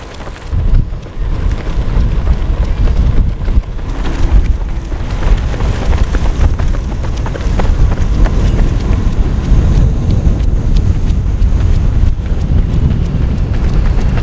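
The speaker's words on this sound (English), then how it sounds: "Very windy, very windy." Strong wind buffets the microphone outdoors during a run, a loud, continuous roaring rumble with gusty surges throughout.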